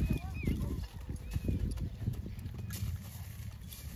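Horses' hooves clip-clopping on pavement during a street procession for a religious jayanti celebration, with uneven clattering steps under constant nearby talk and crowd bustle.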